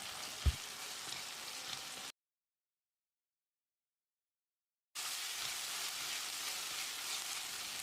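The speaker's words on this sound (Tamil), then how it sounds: "இதில் 1 டேபிள் ஸ்பூன் இஞ்சி பூண்டு விழுது சேர்த்து பச்சை வாசனை போகிற அளவுக்கு ஃப்ரை பண்ணிக்கலாம்." A soft, steady sizzle of ginger garlic paste frying in a pan, with a short silent gap partway through and one brief knock near the start.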